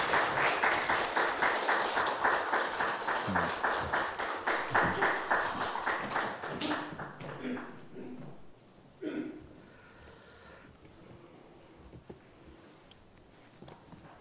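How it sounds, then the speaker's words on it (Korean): A church congregation applauding to welcome a pastor to a Wednesday Bible seminar, a roomful of clapping that builds into a rhythmic beat and then fades after several seconds, followed by a quiet room with a few shuffles. "우리 박수로 환영해 주시면 감사하겠습니다."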